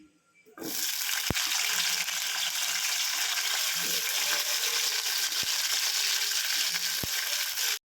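Green chillies frying in oil in a pan for village-style gongura pachadi: the sizzle starts abruptly and holds steady and loud, with a few sharp clinks of stirring and no talking.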